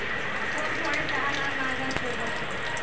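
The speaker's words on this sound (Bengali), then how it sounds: "গরম তেলের মধ্যে ফোড়ন দিয়ে দেবো কালো জিরে," Black cumin seeds tempering in hot oil for a Bengali okra curry give a steady, dense crackling sizzle that runs the whole time, with one brief sharper pop near the end.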